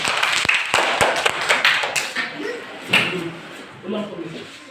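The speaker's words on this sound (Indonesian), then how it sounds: "Oke, tepuk tangan." Children in a classroom clap their hands in a quick, uneven burst that fades within a couple of seconds, followed by scattered voices talking nearby.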